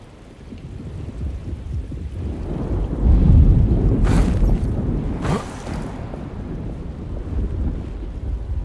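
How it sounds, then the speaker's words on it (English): Storm ambience from the video game Alone in the Dark: a loud, steady rush of rain and wind with deep rumbling thunder swelling midway and a couple of sharp bright cracks, no talk. "Just keeping an eye out for the storm."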